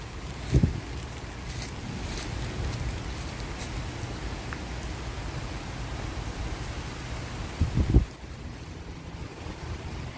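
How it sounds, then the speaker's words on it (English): Steady rain patters through a forest in Chicago as a continuous wash of drops and wind-like hiss, with a couple of brief louder knocks near the start and end. "I'm walking through the forest in the rain here. I'll let you listen to the pitter patter."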